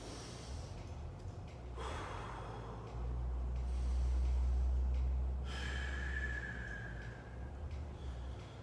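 Slow, controlled breathing during a held core exercise: soft, close exhales and audible breaths, one long drawn-out exhale in the middle, with no talking.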